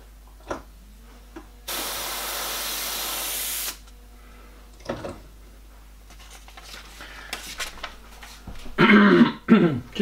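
An airbrush sprays paint in a short continuous hissing burst of about two seconds, close and fairly loud, amid quiet gaps, small handling noises and a few faint clicks and throat sounds.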